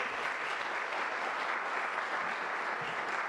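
An audience at an endowed business lecture applauds steadily, a dense, even wash of clapping heard alone and at moderate distance.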